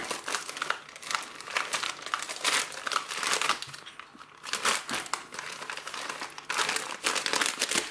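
A bright green mail envelope from a Chinese online order being torn open and handled, its paper crinkling and rustling in close, uneven bursts with short pauses.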